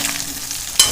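Baby potatoes roast and sizzle in a pan while being stirred, a steady close frying hiss with a brief louder scrape of stirring near the end.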